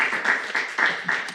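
A church youth group congregation applauds during a Sunday worship service, a short burst of dense indoor clapping with slight swells, heard alone with no talk over it.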